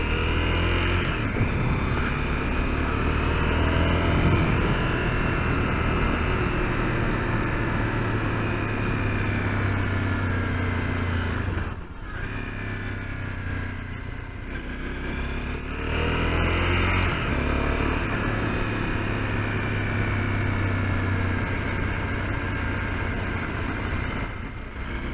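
A Honda CRF250L dual-sport motorcycle rides along a road toward Auburn Ravine, its engine droning steadily and close throughout, with steady wind rush and a brief dip in the middle; no voices.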